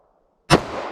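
A single .45 ACP pistol shot cracks out loud and sharp after half a second of silence, then rings into a short decaying echo.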